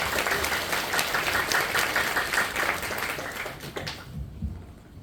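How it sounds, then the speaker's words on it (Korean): Audience at a science high school admissions information session applauding to welcome the principal, steady full clapping that fades out near the end. "큰 박수로 맞이해 주시기 바랍니다."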